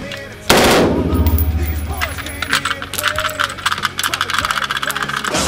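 An AR-15 rifle fed from a P-Mag magazine fires a rapid, loud string of shots outdoors, followed by mechanical clinks and a rattle as the firing trails off.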